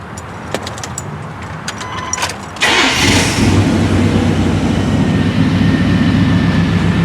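Keys jingle briefly, then a pickup truck engine cranks and catches, settling into a loud, steady idle rumble.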